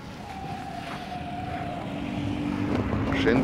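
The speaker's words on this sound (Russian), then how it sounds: "Машинка." A car passes by outdoors on a cold day, its engine and tyre noise rising steadily from a distant drone to a louder close approach over a few seconds, with wind buffeting the microphone.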